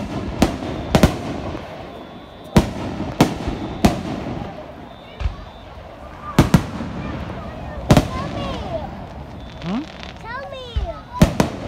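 July 4th fireworks bang in a series of sharp, loud explosions spaced a second or two apart, with crackles and whistling shells in between, while children and other people talk and shout in the background.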